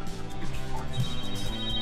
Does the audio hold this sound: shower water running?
no